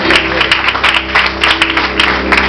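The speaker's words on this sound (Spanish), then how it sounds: "Denle un aplauso al Señor" A church congregation applauds loudly at a Spanish-language service, a dense, continuous burst of many hands clapping close by, with a low steady hum beneath and no talking.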